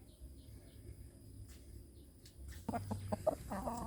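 Free-range village chickens cluck softly in short bursts, growing busier toward the end while being fed, over a low, quiet background rumble.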